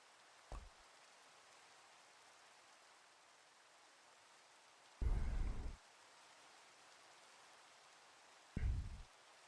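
Steady, faint hiss of rain falling in Minecraft, interrupted by three short, louder rushes of sound, the last two lasting under a second each.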